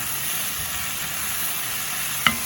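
Long beans sautéing in a pan give a steady sizzling hiss, with one brief scrape of stirring near the end.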